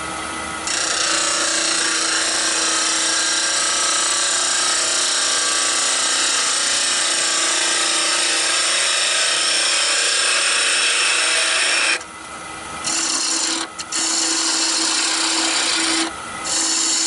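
Yew spinning on a wood lathe as a diamond parting tool cuts close to center, a continuous loud scraping hiss with a steady motor tone, broken by brief pauses near the end as the tool lifts off.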